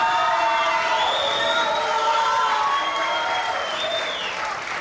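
Loud, dense applause with cheering and whoops from a crowd voting for a dance contestant at a Chilean dance competition, voices rising above the continuous clapping before it slowly tapers off.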